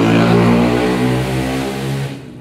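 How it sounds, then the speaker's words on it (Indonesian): A racing motorcycle passes close by, its engine loud and droning with a falling pitch, then fading quickly as it moves away. "Wah, pembalap ada lewat ya teman-teman"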